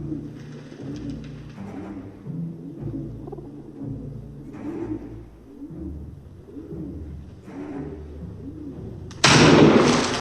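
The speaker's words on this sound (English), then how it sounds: "Cock your pistol and prepare to fire" Pigeons coo repeatedly through a quiet scene before a single loud, close pistol shot rings out at the end in a duel from the film Barry Lyndon.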